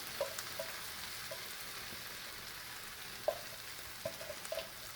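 Food sizzles quietly in a pan, a soft steady frying hiss broken by a few small pops and crackles, heard close with no voices.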